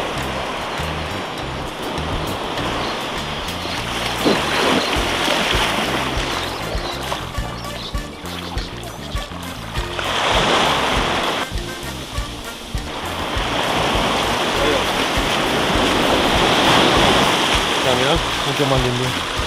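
Pacific Ocean surf breaks on the shore in a steady, loud wash of rushing water that swells and recedes in broad surges and fills the whole stretch.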